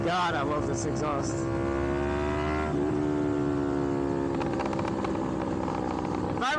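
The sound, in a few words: Yamaha MT-03 motorcycle revving with aftermarket exhaust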